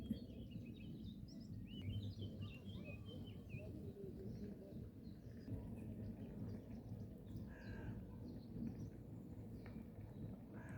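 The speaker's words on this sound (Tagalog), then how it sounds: "Pakinggan yung mga ibon kumaawit." Soft chirps and calls from several birds drift in from a distance over a constant low outdoor rumble.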